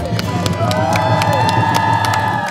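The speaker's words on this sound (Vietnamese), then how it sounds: "vỗ tay nồng nhiệt cho ban nhạc" Audience cheering and applauding for a band at an outdoor Cham cultural event, a loud, steady burst of crowd cheers and shouts with scattered claps.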